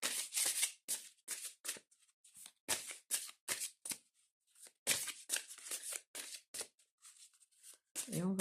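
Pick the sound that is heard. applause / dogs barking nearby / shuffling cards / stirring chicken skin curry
shuffling cards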